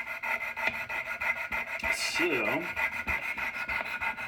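A knife blade is scrubbed back and forth on diamond stones of a Wicked Edge sharpener, a steady close rasping rub with rhythmic strokes, briefly under a spoken word.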